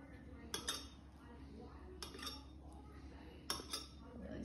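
A knife chops ingredients into small bite-sized pieces for high-protein oatmeal, three separate faint clicks of blade on a board against a low steady hum, each followed by a short scrape.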